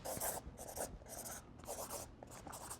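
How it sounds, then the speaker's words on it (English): A pen scratches across a large sheet of paper in a signature, heard close and quiet as a series of short rhythmic scribbling strokes with brief pauses between them. "We're just having everybody in the cast sign one of these big pieces of paper for my apartment."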